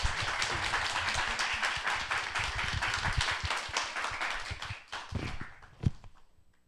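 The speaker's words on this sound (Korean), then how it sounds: "우리 큰 박수로 목사님 환영하겠습니다" A church congregation gives a big round of applause to welcome the pastor, dense steady clapping that carries on for several seconds before thinning out into a few last claps and fading.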